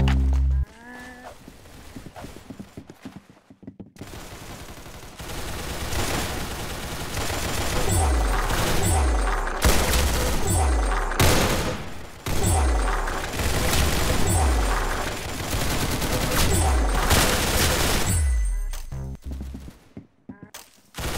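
Gunfire in the Roblox video game is heard as a sustained, loud barrage of dense shots. Heavy booming thumps repeat through it, with voices faintly mixed into the din.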